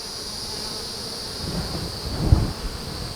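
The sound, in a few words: honeybees buzzing at a hive, bringing in pollen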